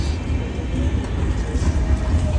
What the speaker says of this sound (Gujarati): ચાય પી લીધી ને ટ્રેન તો બીજી આવી ગઈ.